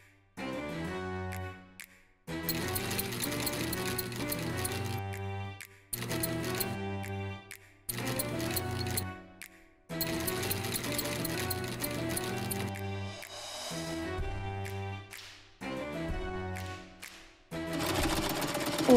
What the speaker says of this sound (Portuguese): A máquina de costura está instalada.